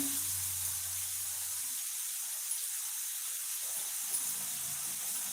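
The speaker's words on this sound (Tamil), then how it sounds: "நல்லா வதங்கிடுச்சு நல்லா இன்னும் ஒரு ரெண்டு நிமிஷம் வதங்கினா போதும்" Curry leaves sauté in oil in a pan with a continuous, even hiss and sizzle, steady and close for the whole stretch with no pauses.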